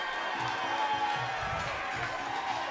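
After a striking fight, a crowd cheers and murmurs in a continuous, moderately loud wash of voices and applause.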